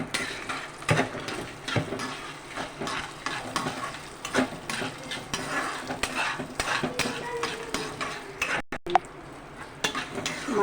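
Dried red chillies frying in a pan, a low crackling sizzle under repeated scraping and clacking strokes of a spatula, fairly close and regular.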